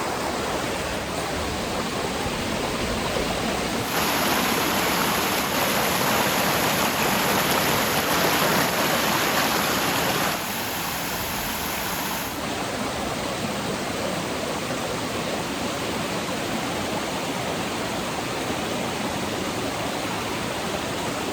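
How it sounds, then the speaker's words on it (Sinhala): Heavy rain pours beside a rushing village stream, a loud, dense, steady roar of water that swells briefly in the middle and continues with no voices. "මාරම වැස්ස."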